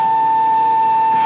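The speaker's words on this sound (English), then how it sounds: "Now that bell you heard, that was a doorbell." A steady electronic doorbell tone on a Williams Pinbot pinball machine rings continuously at a single clear pitch, sustained and fairly loud, with no voices present.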